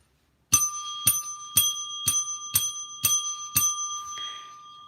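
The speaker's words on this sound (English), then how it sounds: "I will leave you with one final 7 bell dinger." A bell dinger sound effect rings seven times in an even, evenly spaced rhythm, each strike bright and metallic like a bicycle bell, close and clear against silence, the last ring fading out.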